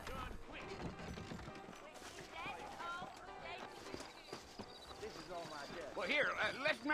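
Horse hooves clip-clop at a steady walking pace in Red Dead Redemption, beneath constant talk and background music, with a busier, louder passage near the end.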